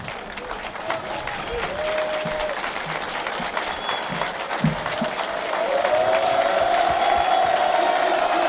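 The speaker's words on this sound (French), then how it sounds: "Je vais demander à tous les civils et militaires qui n'ont pas participé à la marche course d'applaudir." Civilians and soldiers applauding at an Army Day of the Wounded ceremony on Place de Jaude: sustained open-air clapping from a large crowd, with scattered voices and a few whoops, swelling louder toward the end.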